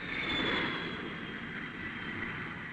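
An Air France Caravelle jet airliner on approach to the runway gives a steady, broad engine roar that holds fairly constant throughout, with no voices.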